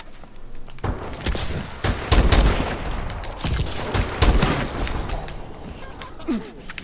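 Bursts of gunfire in Call of Duty: Advanced Warfare, a gun-challenge match: several loud, close volleys with heavy thumps, spaced irregularly and then fading to quieter moments.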